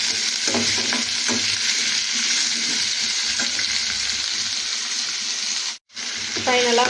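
Ash gourd poriyal being stir-fried in a pan in a home kitchen, a steady close sizzle with scraping stirs throughout, with a brief dropout near the end followed by faint voices.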